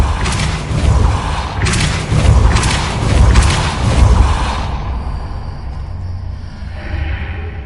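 Depulso spell impacts in the Hogwarts Legacy game land as a run of heavy, loud whooshing thuds roughly a second apart, then the sound drops to a quiet tail.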